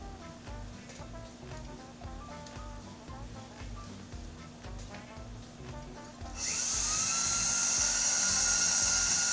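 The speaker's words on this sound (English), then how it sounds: "Now I'm just polishing the inside to make it nice and shiny." A rotary tool whirs steadily while polishing the inside of a ring, with a faint scratchy buzz from the jewelry, then jumps to a louder, higher-pitched whine for the last few seconds.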